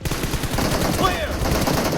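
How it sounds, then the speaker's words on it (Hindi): Rapid video-game gunfire played through a JBL Quantum 300 gaming headset, loud bursts of automatic shots rattling in quick succession, with someone talking over them. "अभी राइट पे गोली चल रही है ना मेरे, तो राइट से आवाज़ आ रही है"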